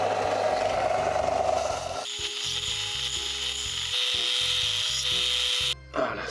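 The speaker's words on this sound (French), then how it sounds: "je vais la passer un petit peu à la ponceuse" A power sander works a sawn piece of wood in a seated home workshop, with a steady close mechanical drone and a rapid rhythmic chatter, shifting in pitch partway through and stopping briefly near the end.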